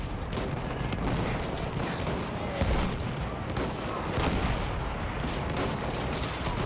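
German guns firing in the video game Battlefield 1, a dense, continuous barrage of rapid gunshots and heavier booms that carries on unbroken throughout the clip.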